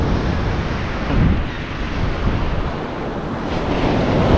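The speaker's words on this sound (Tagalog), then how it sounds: "Ganito kalalaki ang alon, oh." Big ocean waves crash and surge at Bucana beach, a steady roaring wash of surf with heavy wind buffeting the microphone throughout and a swell peaking near the middle.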